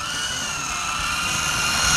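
A small indoor RC helicopter's rotor whines steadily at a high pitch indoors, holding level and swelling slightly louder toward the end.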